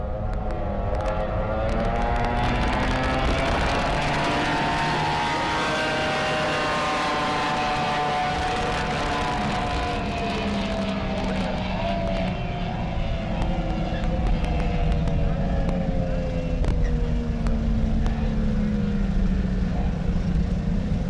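Racing boats speeding past at a lake race, a loud sustained engine roar with pitch sweeping down as they pass, continuous for the whole stretch, with commentary under the noise.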